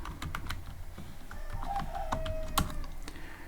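Keys clatter on a computer keyboard while code is typed for a Python canvas program, a quiet, uneven patter of separate clicks at close range with no voices.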